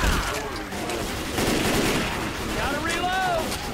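Bursts of gunfire from the video game Hard Rain keep going over a dense, loud stretch of combat noise. Several shots overlap with clanging and whooshing game effects.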